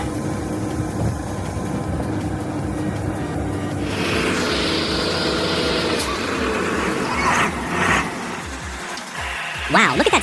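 The V8 engine of a Scania 143 timber truck rumbles loudly and up close, its pitch shifting as it works, with hissing bursts and some clanking near the end.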